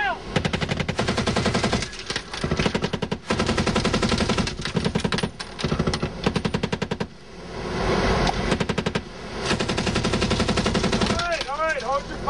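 Soldiers firing machine guns in long, loud rapid bursts with brief pauses between volleys, accompanied by a few shouted voices.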